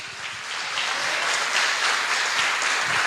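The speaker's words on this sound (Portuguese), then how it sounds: "Vamos aplaudir ao Senhor Jesus." A church congregation applauds during a Sunday morning service. The clapping is steady and dense, a sustained wash of many hands that grows slightly louder and keeps up without a break, with no talking over it.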